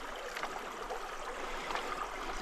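Water draining quickly out of a sieve during sapphire fossicking, a steady close trickling rush with soft splashy bursts, continuous and fairly quiet.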